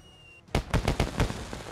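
A quick run of about six sharp gunshots cracks out in DayZ after a brief near-silent pause, the loud, evenly spaced reports landing close to the listener with no voices over them.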